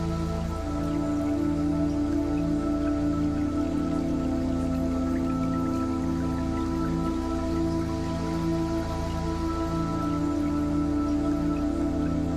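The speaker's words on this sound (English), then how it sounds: "Tune in the sound of the water." Steady flowing water with pattering raindrops sounds continuously and evenly over a low sustained musical drone, with no voices.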